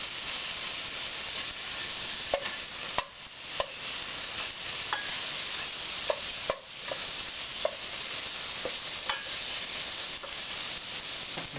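Sausage pieces cook in a pot for pasta fazool, giving a steady soft sizzle and hiss with occasional light clicks and scrapes of stirring, close and moderately quiet, with no talking.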